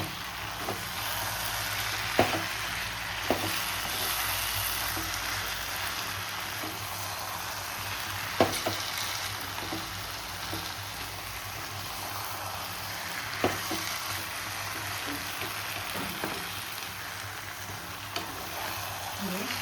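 A South Indian restaurant-style chicken pulao mixture stirred in a pan, giving a soft continuous sizzle under a spoon that clicks and scrapes against the pan every few seconds; no one talks.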